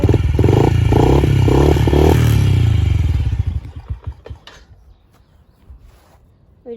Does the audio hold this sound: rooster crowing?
no